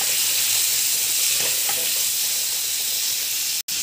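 Tomato and garlic fry in a little oil for veg momos, a steady close hiss of sizzling with brief stirring scrapes partway through, loud and continuous until a sudden short cut near the end, with no voices.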